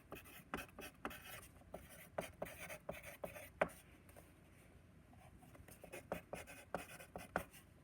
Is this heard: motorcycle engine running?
no